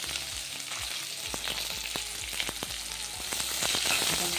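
Chopped onion with bay leaf sautéing in oil in a kadhai for chole bhature, a steady close sizzle with scattered soft stirring scrapes throughout, no voices.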